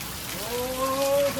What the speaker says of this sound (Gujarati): અમારે અહીંયા પડ્યો વરસાદ પાટણમાં જોરદાર વરસાદ